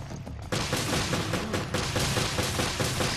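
Rapid bursts of gunfire fill the space in Resident Evil Revelations as an enemy is shot, a brief pause followed by dense, loud, continuous shots.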